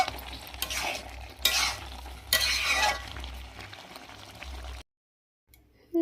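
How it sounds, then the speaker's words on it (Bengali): Pumpkin and shrimp curry stirred in a pan, with a spoon scraping and sloshing through the thick mixture in repeated strokes over a low sizzle, then stopping into near silence. "এবার একটু ভালো করে নেড়ে ছেড়ে নিয়ে নামিয়ে নিলেই হবে।"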